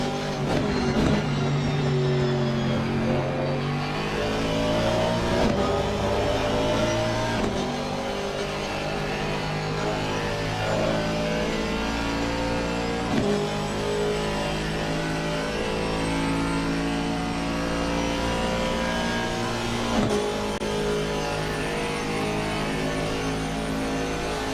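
Aston Martin and McLaren GT race cars in the 24 Hours of Spa, with engines droning loud and continuous as they run close together, pitch rising and falling through gear changes and corners.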